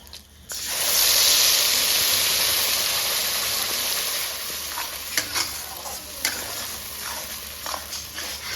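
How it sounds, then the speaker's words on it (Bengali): Pointed gourd seed paste hits hot oil and sizzles loudly, a steady frying hiss that slowly eases, with stirring scrapes and small clinks toward the end. "পটল ভাজা তেলে আমি এবার পটলের দানা পেস্টটা দিয়ে দেবো"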